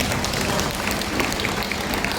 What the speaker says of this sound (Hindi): दिनेश उरांव के लिए ताली बजा दीजिए